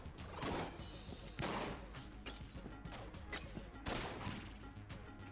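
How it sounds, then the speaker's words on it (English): A shotgun fires in the video game Enter the Gungeon, several loud blasts spaced about a second or two apart among busy game effects. "We're going to continue to use the shotgun here."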